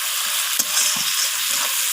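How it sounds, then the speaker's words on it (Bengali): Chopped tomatoes and onions fry in oil in a pan over a wood-fired stove as the base for chicken biryani, giving a steady close sizzle with a few soft stirring scrapes. "তো টমেটো পেঁয়াজ দুটোকেই এবার ভেজে নিচ্ছি টমেটোটা যতক্ষণ নরম হয়ে আসছে।"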